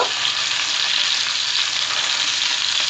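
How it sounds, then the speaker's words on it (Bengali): Tilapia fish fries in hot oil, a dense, loud, continuous crackling sizzle held close for a few seconds without any speech. "এখন এই সাইডটাও আমি সুন্দর করে এভাবে বাদামি রং করে ভেজে নিব"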